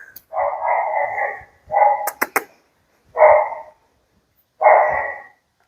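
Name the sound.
dog barking in the distance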